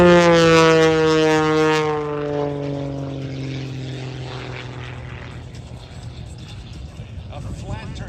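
An aerobatic propeller airplane performs a flat turn at the Miramar airshow, its loud engine drone falling steadily in pitch as it passes and fades into the distance, with a commentator speaking over it.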